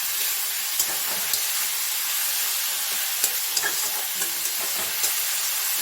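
Softened tomatoes and onions for peyaj posto fry in a pan, giving a loud, steady sizzle and hiss with occasional light scrapes and clicks from stirring, close up and without talk.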